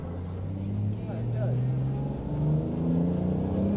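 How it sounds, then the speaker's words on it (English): Toyota Supra engine burbling on the Donington track, a steady low rumble that holds across the whole stretch with a slight swell midway, loud and close, as if from inside the car. "They've got a real burble to them, these Supras, haven't they?"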